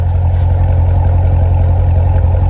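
A deep, rumbling V8 engine of a 2017 Chevrolet Corvette Stingray Z51 idling with a steady lopey chug, heard from the back, loud and close, running continuously without revving.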